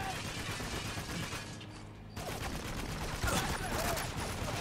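Rattling turret gunfire in the war shooter Spec Ops The Line, a dense, continuous mechanical clatter of fire under steady game noise, softer in the middle before picking back up.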